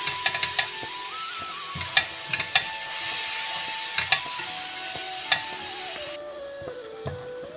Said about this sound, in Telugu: మనం మెత్తగా పట్టి పెట్టుకున్న కొబ్బరి వేసుకుందాం. ఇది మంచిగా వేగాలండి.